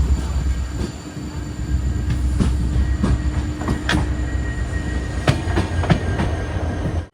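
Banker locomotives pushing a goods train toward Castle Rock, a steady loud rumble with sharp clanks and rattles throughout, heard from close by.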